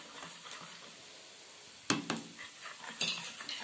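A utensil stirs butter into batter for chicken patisapta, a soft steady scraping at first, then a few sharper clinks of the spoon against the bowl near the end.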